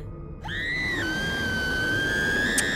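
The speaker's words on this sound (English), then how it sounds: "Here comes a scream." A woman's scream in the video game What Remains of Edith Finch: one long, sustained, high-pitched cry lasting over two seconds, loud and alone with no other sounds.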